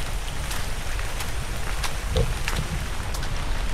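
Steady rain falls hard and close, a dense continuous hiss with scattered heavier drops, alone with no voices.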